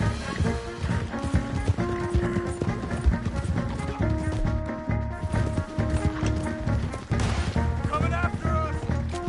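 Galloping horses in Red Dead Redemption 2, their hooves drumming a steady clip-clop beat under a tense orchestral score, with scattered crashes and bursts of gunfire during a getaway.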